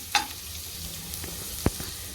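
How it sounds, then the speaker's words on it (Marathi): Ginger garlic paste hits hot oil with softened pink onions, giving a steady close sizzle with a couple of sharp clicks from a spoon against the pan. "आता आलं लसूण पेस्ट टाकूया पटकन"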